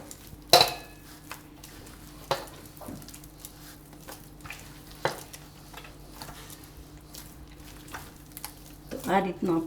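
Soft dough is kneaded by hand in a large vessel for Surti mora khaja, giving irregular slaps, squishes and knocks against the pot, with quiet gaps between them.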